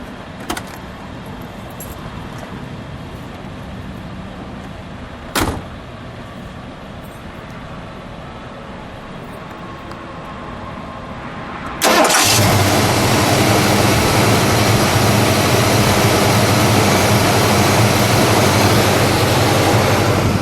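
A 1969 Mercury Cyclone Spoiler Dan Gurney Special with a 351 V8, keys jangling before the engine cranks and catches, then settles into a loud, steady, close idle that fills the rest of the recording.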